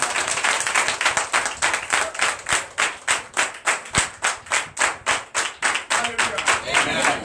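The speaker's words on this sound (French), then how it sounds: "Donnez l'acclamation à notre Dieu." Church congregation at a Sunday worship service in Benin clapping together in a fast, steady rhythm, loud and full with crowd noise behind the claps, the beat loosening into scattered clapping near the end.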